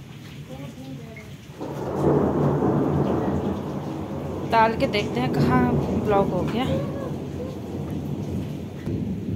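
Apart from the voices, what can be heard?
heavy rain with thunder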